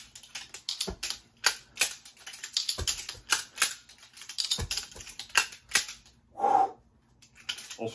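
A revolver is speed reloaded in a sharp run of close metallic clicks and clacks, irregular and quick, with a brief rattle near the end and no talking.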